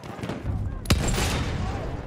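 A player fires a gun in a video game: one sharp, loud shot rings out over a steady rumbling barrage of gunfire and battle noise.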